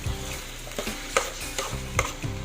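Bitter gourd omelette (tortang ampalaya) frying in a pan, a steady close sizzle with periodic scraping stirs and clinks from a utensil, no voices.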